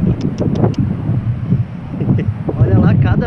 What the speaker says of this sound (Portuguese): É vento, quando dá essas rajadas assim